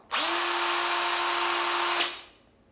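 Ryobi cordless drill powered by a Makita battery through an adapter whirs at a steady high pitch for about two seconds, then spins down after the trigger is released, close and loud with no talk.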